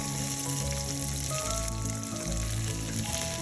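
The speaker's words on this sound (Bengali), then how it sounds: "পেঁয়াজটাও অল্প কিছুক্ষণ ভালো করে ভেজে নিতে হবে" Chopped onion frying in oil makes a short, steady crackling sizzle near the microphone, alone with no speech.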